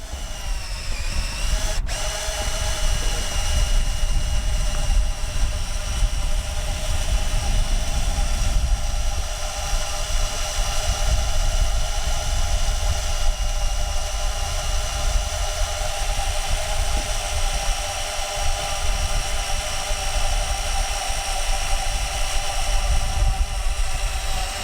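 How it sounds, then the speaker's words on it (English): Drill-driven winch hauling a runabout boat up onto a tipping dock ramp, a steady close whine with constant pitch and drone running without pause the whole time. "This time, I'm using a drill-operated winch to pull the boat onto the dock"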